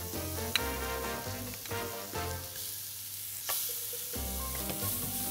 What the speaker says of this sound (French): On va faire transpirer un petit peu les oignons